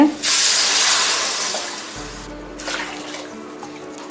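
Tamarind water poured into a simmering river crab gravy makes a loud, close rush of hissing liquid at the start, then fades into a softer bubbling sizzle with a few small splashes.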